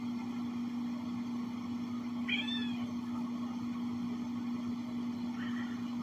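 A house cat gives a brief, faint meow, then a fainter one later, both half buried under a steady electrical hum and background noise indoors.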